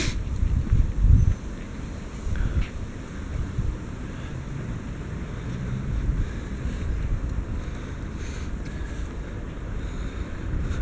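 Strong east wind buffeting a microphone on the Don riverside embankment in Rostov-on-Don, a continuous loud rumbling roar with gusty surges throughout, alone without voices.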